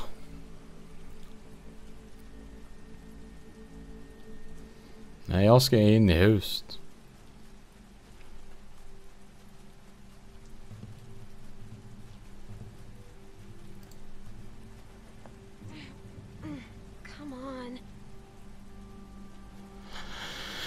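Rain from The Walking Dead Season 2 falls steadily as a soft, faint hiss through the whole scene, beneath someone speaking and a brief louder noise early on.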